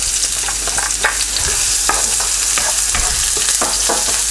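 Garlic and onion sauté in hot oil in a pan, giving a steady close sizzle with scattered scraping stirs over about four seconds.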